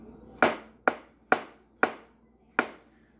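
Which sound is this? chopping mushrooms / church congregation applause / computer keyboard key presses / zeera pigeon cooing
chopping mushrooms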